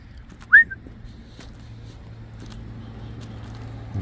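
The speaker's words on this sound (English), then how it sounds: "I've learned to whistle her back" A person gives one short, sharp rising whistle outdoors in the evening to call a Belgian Malinois back, followed by faint footsteps and a low steady background rumble.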